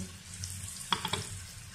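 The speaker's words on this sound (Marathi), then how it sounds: "मंद गॅसवर कांदा भाजतो" Chopped onion fries in a pan over a low gas flame, giving a soft, steady sizzle with a few brief stirring clicks in the middle.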